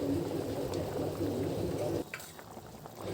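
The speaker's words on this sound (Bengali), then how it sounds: "দেখুন ঝোলটা ফুটে উঠেছে।" Pangash fish curry broth boiling in a pot, a dense steady bubbling and simmering for about two seconds before it drops away to quieter faint sounds.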